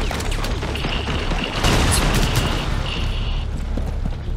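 An enemy fires at close range in Rainbow Six Extraction, a dense burst of rapid gunshots and booms that packs the whole moment loudly with no pauses.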